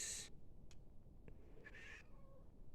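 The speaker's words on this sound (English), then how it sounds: "she just had one of those meows where you think that she were being killed" A pet cat lets out loud, drawn-out meows, a sharp cry at the start followed by fainter calls and a second strained meow, heard alone against quiet room noise.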